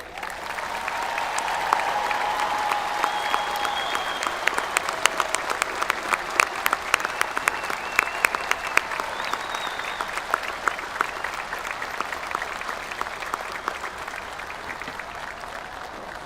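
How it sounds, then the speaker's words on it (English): A graduation ceremony audience at Canyon High School gives a sustained round of applause, dense clapping that swells, holds steady for about sixteen seconds and slowly thins, with a faint whistle or cheer in the crowd. "Please join me in one more round of applause of appreciation for their dedication to"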